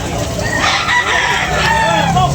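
A rooster crows close by at a rainy outdoor chicken market, its long rising and falling call carrying over a dense background of other fowl and steady crowd noise.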